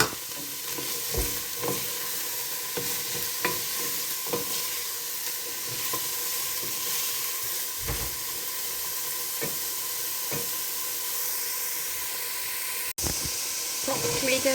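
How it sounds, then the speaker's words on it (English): Mince and carrot frying in a pan, a steady soft sizzle and hiss running throughout with occasional stirring knocks and scrapes, fairly quiet and close. "It's sizzling away."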